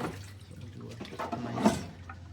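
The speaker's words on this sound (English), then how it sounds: "This is a rinse, and then we'll do a brake clean run to make sure we get all the little nitty gritty spots that the gasoline can't get" Gasoline being poured and splashed over transmission parts during a rinse in a rebuild of a JDM car's bad transmission, a soft trickling and sloshing that swells briefly near the end, with faint voices in the background.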